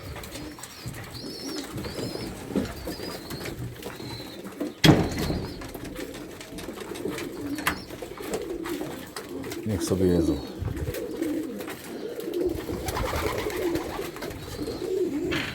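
Racing pigeons coo softly and repeatedly nearby while eating, amid rustling and background noise, with a person speaking briefly and a sharp knock partway through.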